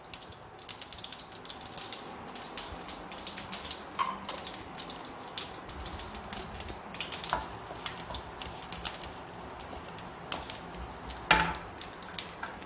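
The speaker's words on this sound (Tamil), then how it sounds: "இதில் நான் கடுகு போட்டு தாளிச்சிடுறேன். கடுகு பொரியறப்போ நம்ம பெருங்காயத்தூள் போட்டுக்கலாம்." Mustard seeds spluttering in hot oil for tempering a South Indian curry, a continuous crackle of small, sharp pops with a few louder snaps, close and fairly quiet, with no voices.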